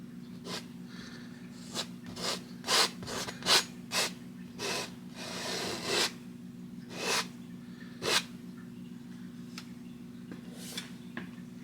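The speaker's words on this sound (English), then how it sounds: "Pressing that paint right into the fabric and scraping a chunk of it off." A painting knife presses paint into canvas and scrapes it off during a spring Tetons landscape painting, giving a series of short, close, raspy scraping strokes over a low steady hum.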